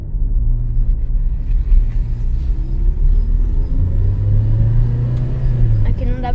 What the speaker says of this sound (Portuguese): turbo mesmo, veio crescendo, parece turbina enchendo